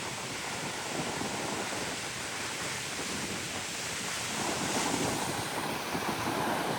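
Strong sea waves surging along a blustery coastline, heard as a dense, unbroken roar of churning water and spray that grows louder partway through, mixed with heavy wind noise.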